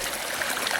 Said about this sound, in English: there's a lot of different water patterns here, little waterfalls, fast moving, slow moving.